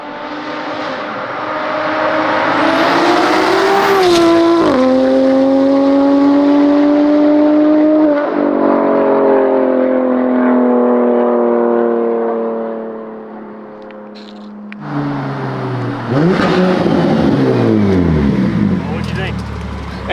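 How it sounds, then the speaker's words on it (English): A modified BMW M4 engine revs loud and close, rising and falling in long sustained pulls with sharp throttle shifts, a brief dip, then renewed aggressive revving toward the end. "That's the best sounding car I have right now."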